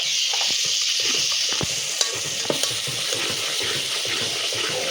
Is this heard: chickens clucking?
no